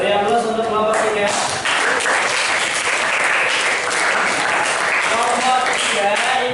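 A classroom audience applauds a student group at a school competition, steady dense clapping sustained for several seconds, with voices audible over it.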